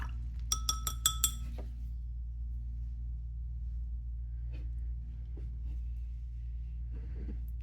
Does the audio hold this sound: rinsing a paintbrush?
yes